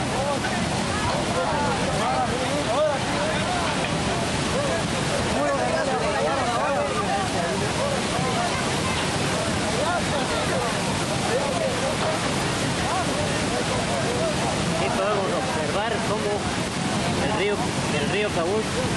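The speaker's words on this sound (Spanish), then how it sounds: "Miremos cómo el puente Cabuza ha sido arrastrado por estas torrentadas de agua" The Cabuz river in torrential flood after Hurricane Stan in 2005, strong enough to wash away the bridge, makes a steady, loud, broadband roar of rushing water that continues without a break.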